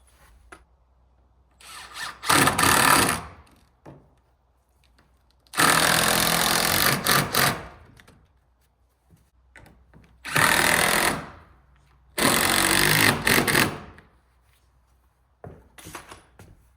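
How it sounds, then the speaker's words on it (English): A power driver sinks screws into door hinges during a tiny house build, giving four loud whirring bursts of a second or two each, separated by quiet handling gaps, close to the listener. "for now I'll install just those screws that have in my pocket"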